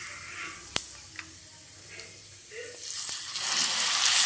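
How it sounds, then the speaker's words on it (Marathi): Cumin seeds hit hot oil for a dal tempering: a faint hiss with a couple of sharp ticks early on, then the sizzle swells into a louder, brighter crackle over the last second. "आपलं तेल तापलंय, आता आपण जिऱ्याची फोडणी देऊया"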